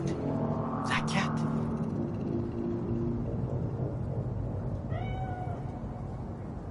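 A cat meows in a Night City street in Cyberpunk 2077, a single short, fairly faint call near the end, heard over a steady low rumble and ambient city noise.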